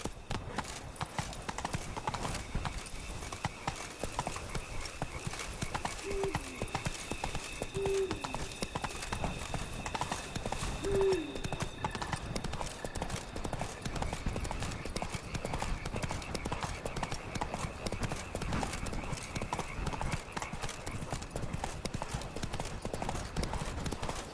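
Roach the horse from a video game gallops with steady, continuous clip-clop hoofbeats, loud and close throughout, under game ambience and a few faint background tones.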